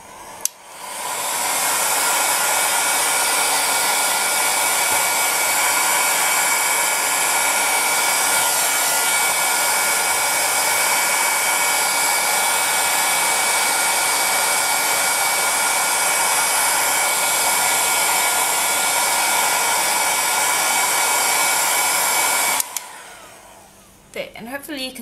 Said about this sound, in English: you can take a hairdryer or a heat gun on its lowest setting